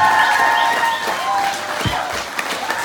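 An audience claps for Baktykan Myrzabekova at a business opportunity event in Osh, a loud, dense burst of applause that thins slightly toward the end.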